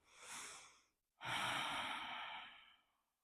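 Close, clear breathing during a seated yoga twist, a short inhale and then a longer, fuller exhale after a brief pause.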